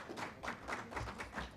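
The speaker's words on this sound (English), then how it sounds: "With a round of applause." A conference audience at an economic, social and cultural rights event applauds a panelist, a brief burst of steady, fairly quiet clapping from many hands in a room.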